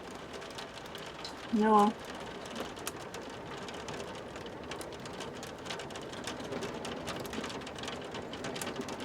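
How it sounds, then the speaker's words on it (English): Heavy rain drums on the roof of a Jayco motorhome, a dense, steady patter of close drops throughout, interrupted once by a short spoken word. "A lot of rain."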